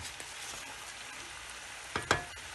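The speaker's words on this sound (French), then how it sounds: "je vais laisser mijoter à feu doux" Chicken sauce for angel hair pasta cooking on low heat gives off a soft, steady bubbling hiss, with a couple of louder clicks or knocks near the end. No one speaks.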